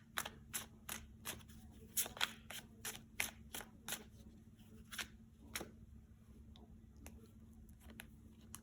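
Tarot cards being shuffled and riffled in a quiet room, giving a run of sharp papery snaps and flicks that come thick at first and then thin out to sparse ones, with a steady low hum underneath.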